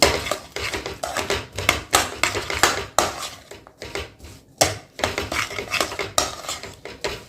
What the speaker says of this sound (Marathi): असं कोटली करा हलवत राहा दोन मिनिट सगळ्या मखाण्याला गुळ